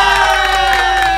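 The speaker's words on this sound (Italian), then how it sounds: "Un applauso a Giulia!" A crowd at an 18th birthday party for Giulia at the Convento di Lonato cheers in a brief, loud, continuous burst, with amplified music tones running underneath.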